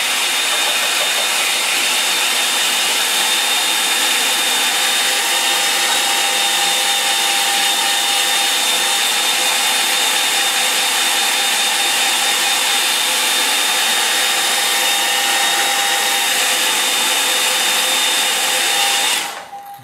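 A hair dryer blows steadily and loudly over a watercolour landscape painting, a continuous close whoosh with a faint whine that cuts off at the end.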